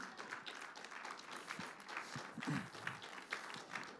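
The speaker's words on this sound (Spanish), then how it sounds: "Denle ese fuerte aplauso al Señor" A church congregation claps in praise during a service, a faint, scattered patter of hands with a few sharper claps standing out and a little crowd noise underneath.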